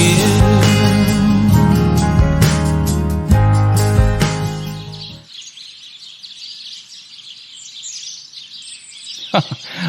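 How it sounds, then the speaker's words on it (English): Sparrows chirp in a dense, lively chorus at first, then thin out to scattered faint high tweets over quiet background. "Oh, I love the sound of those sparrows."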